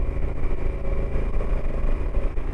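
A Honda motorcycle engine drones steadily at low speed during a quick-shifter gear change, with wind noise buffeting over it and no clear distinct shift.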